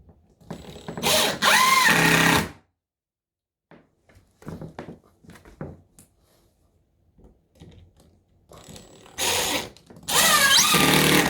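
A power drill drives screws into a noisy floor in two loud whirring bursts at the start and two more near the end, with quieter creaks and clicks between them.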